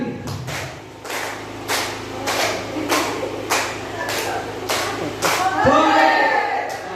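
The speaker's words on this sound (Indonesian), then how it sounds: "Tepuk 3 kali" A group of people clapping in unison, sharp claps in a steady rhythm that repeats through the moment, with a voice talking over them.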